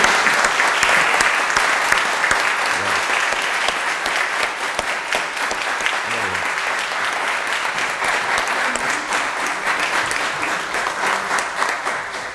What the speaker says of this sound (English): how about a very big round of applause for our newest confirmands and members of